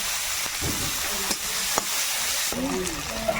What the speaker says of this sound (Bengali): তেলের মধ্যে একটু গোটা জিরে তেজপাতা গোটা গরম মশলা সব দিয়ে দিলাম একটু ভেজে নিয়েছি এবারে পেঁয়াজ কুচি